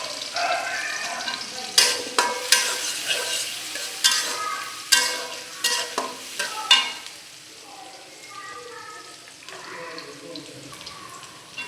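Bay leaf, chili and cardamom frying among browning onions in a pot for beef curry: close, irregular scraping and clacking of a spoon stirring over a soft sizzle, thinning out toward the end.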